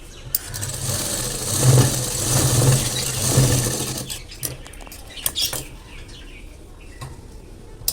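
A sewing machine stitches a lined katori blouse, running in a steady whirring burst for about four seconds, then stopping for short start-stop clicks and rattles, close by and without talk.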